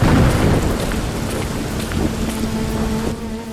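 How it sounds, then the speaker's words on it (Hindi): Heavy downpour in an animated village scene about a poor farmer, a dense steady rush of rain with deep thunder rumbling underneath. "मूसलाधार बारिश में राम लखन भीगते हुए पड़ोसी के यहाँ मदद के लिए चल पड़ता है।"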